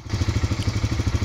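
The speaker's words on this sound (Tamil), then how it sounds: "ஸோ இதுதான் இன்ஜினோட சவுண்டு." A Bajaj Freedom 125 CNG motorcycle engine runs steadily at idle close by, giving a rapid, even low thumping pulse with a faint mechanical clatter and no talking.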